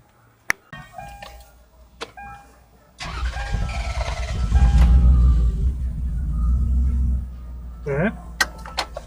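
A Lexus RX300 with a newly fitted engine computer is started: a few clicks and beeps, then the starter cranks and the engine catches into a loud, close rumble that settles to an idle, followed by more clicks.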